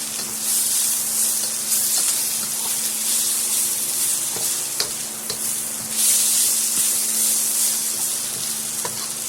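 Ginger fries in a hot pan for lo mein, giving a steady close sizzle with occasional stirring scrapes and no talk.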